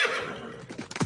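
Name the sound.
horse neighing, sound effect in light and sound show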